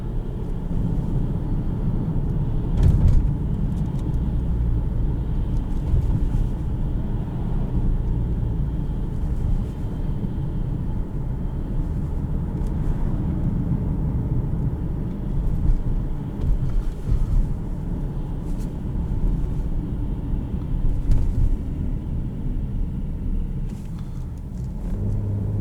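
Cabin-heard engine of a 2018 Jeep Cherokee Latitude with the 3.2 engine, a steady low throaty drone and road rumble on the move, continuous and even with slight swells, no talking.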